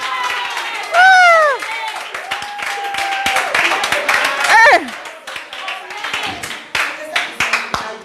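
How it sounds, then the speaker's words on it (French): A church congregation claps and cheers in a lively burst, with rapid scattered clapping throughout and voices crying out over it. "Acclamez le Seigneur là-bas."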